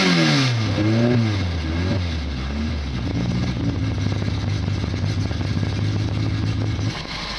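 A VAZ 2109 with a tuned carbureted 8-valve engine on a Solex 30/30 and its exhaust system opened is revved hard at first, then settles into a loud, rough, steady idle, close by with no talking.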